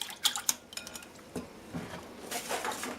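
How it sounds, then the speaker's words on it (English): Wet ingredients are worked into the dry mix for a cranberry quick bread, with soft clinks of a utensil against a bowl and gentle stirring scrapes, close and fairly quiet, with no talking. "Then when this is whisked together, we add this to the dry."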